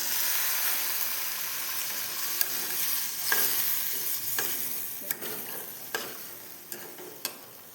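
Spices cook in a pan as a little water goes in, bringing a broad steamy hiss and sizzle with sharp scraping taps from stirring that recur toward the end.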